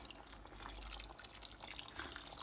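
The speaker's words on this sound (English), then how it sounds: "so this is hot water going in" Hot water pours into a pot of chicken and potato curry, a soft continuous splashing and trickling at low level with a dull low rumble underneath.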